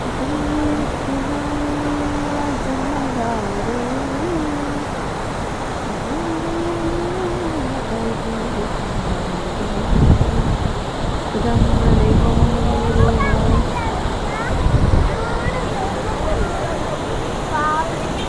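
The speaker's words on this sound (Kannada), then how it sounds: "ಈ ವಾಟರ್ ಸೌಂಡ್ ಎಷ್ಟೊಂದು ಚೆನ್ನಾಗಿದೆ ಅಂತ ಅನ್ಸುತ್ತಲ್ವಾ?" Water roars steadily at Gaganachukki waterfall, a continuous broadband rush filling the whole clip, with people talking over it at times.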